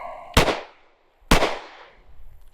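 Two loud, sharp gunshots fired at an outdoor shooting range during a pistol accuracy drill, each a single crack with a short decaying tail, spaced about a second apart.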